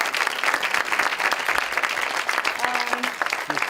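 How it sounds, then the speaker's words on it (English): Applause from an audience at a mental health mobile app rollout event, dense and steady clapping across the whole stretch with a faint tonal hum near the end. "I want you guys to give him a big round of applause."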